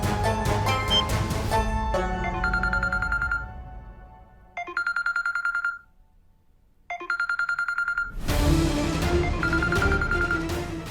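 A phone ringtone plays loud and close as a repeating electronic melody, cutting off briefly into near silence before the tune starts again and swells into a fuller musical passage.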